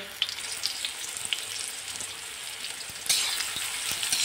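Green chili, onion and tomato fry in a pan, making a steady, close sizzle with a few sharp pops, and the hiss swells louder partway through as more goes in.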